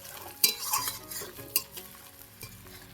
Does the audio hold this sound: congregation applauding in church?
no